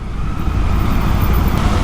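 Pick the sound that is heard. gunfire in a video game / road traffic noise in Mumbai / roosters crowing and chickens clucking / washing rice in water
road traffic noise in Mumbai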